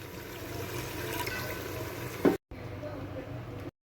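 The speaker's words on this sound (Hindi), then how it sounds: "हम इसमें हाफ गिलास पानी ऐड करेंगे" Half a glass of water poured into a pan of cooking tripe curry, a steady close splashing and trickling wash that runs for a couple of seconds before the sound cuts out.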